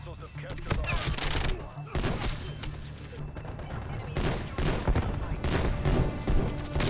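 TEC-9 submachine gun fire in the shooter game Black Ops Cold War, loud rapid bursts in several volleys separated by short gaps, with a player talking faintly underneath.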